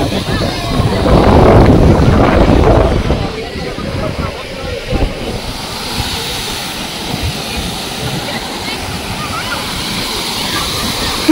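Strong, loud rushing water pours continuously over a waterfall near Thaiyur lake, Chennai, a dense roar that stays steady throughout, with a heavier surge near the start.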